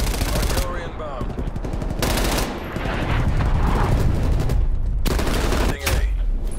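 Call of Duty Black Ops Cold War gameplay in which an artillery strike lands as loud, rapid bursts of explosive impacts and gunfire rolling over several seconds, with brief pauses between barrages.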